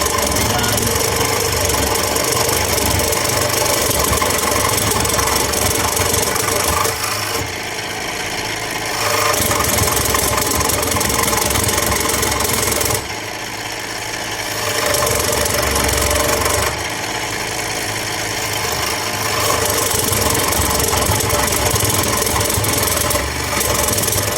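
A saw cuts through wood for a mug part in a school wood shop, giving loud, continuous rasping strokes with brief pauses between passes.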